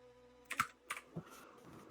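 Typing on a computer keyboard: a few quiet, scattered key clicks in short bursts, close and faint against a quiet background.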